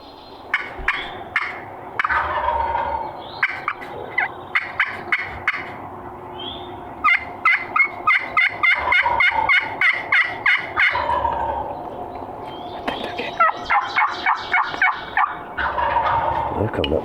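Wild turkeys in hardwood forest gobble back to a pot call, loud rattling gobbles bursting repeatedly over about seventeen seconds, with squeaky friction-call notes scratching in between, fairly close and with no talk.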